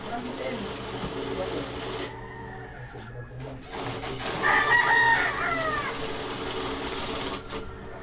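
Chickens cluck and a rooster crows loudly close by, with people talking in the background amid a busy, noisy yard.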